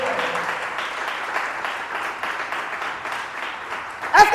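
A church congregation applauds and cheers the Lord with sustained, even clapping from a crowd, ending in a sharper louder burst.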